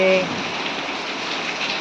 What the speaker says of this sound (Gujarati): જોરદાર વરસાદ શરૂ થઈ ગયો છે